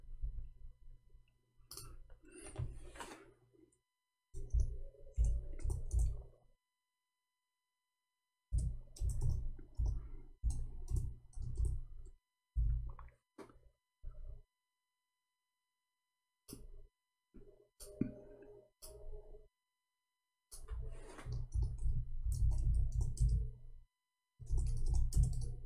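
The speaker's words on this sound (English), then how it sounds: "I'm typing, hold on." Someone types on a computer keyboard in several bursts of rapid close clicking, separated by short silent pauses.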